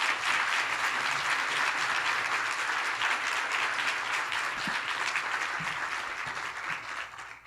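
An audience at the ArtPlace Summit 2018 welcome plenary in Louisville applauds Mayor Greg Fisher with sustained, dense clapping that holds steady and then thins slightly at the end.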